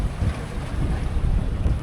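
Strong 25-knot wind roars steadily across a fishing boat in the Pilbara, a loud, close, unbroken buffeting rush with low gusting rumble and no voices.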